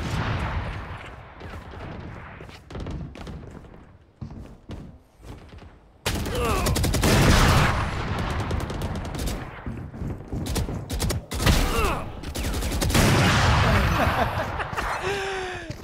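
Rapid bursts of gunfire from Valorant ranked play, dense volleys cracking close and loud, briefly sparse at first and then nearly continuous, with a faint voice now and then.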